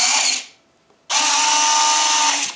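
A servo drives the retractable landing gear on an RC plane, giving a loud, close, high whine. It runs briefly, stops for about half a second, then whirs again steadily for roughly a second and a half.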